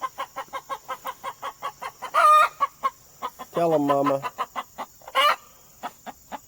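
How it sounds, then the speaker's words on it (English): A mother hen clucks steadily near her brood of chicks, a regular close pulse of clucks broken by louder squawks and a brief crow-like call, with a short spoken remark in between. "We got our mama chicken over there."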